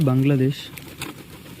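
A Bengaluru breed pigeon gives a short, near coo that fades quickly into quiet background noise.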